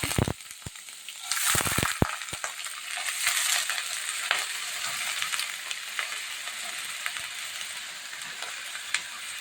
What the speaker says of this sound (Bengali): তেলটা গরম হয়ে গেছে, আলু দিয়ে দিচ্ছি।